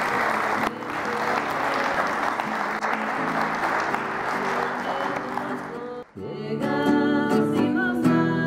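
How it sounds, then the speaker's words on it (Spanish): Loud applause from a wedding crowd honouring the newlyweds, sustained clapping for about six seconds with a brief dip, then giving way to music with steady tones. "otro fuerte aplauso como signo de felicitación"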